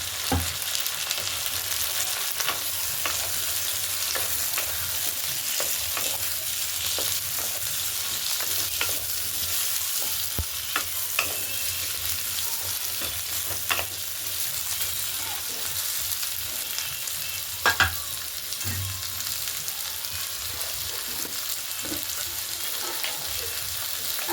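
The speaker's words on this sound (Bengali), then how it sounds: "কেটে রাখা আলুগুলো দিয়ে দেবো দিয়ে ভালো করে তেলের সাথে আলুটাকে ভেজে নেবো" Continuous sizzling of cut potatoes frying in oil, with soft scraping and stirring sounds now and then, heard fairly close and without talking.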